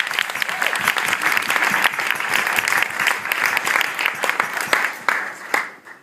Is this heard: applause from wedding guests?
yes